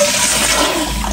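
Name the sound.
tankless toilet flushing after button is pressed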